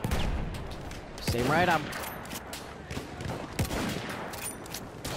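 Sniper rifle shots in the video game Battlefield 1, a few sharp bursts mixed into a busy battlefield din with distant gunfire, while a player talks over it.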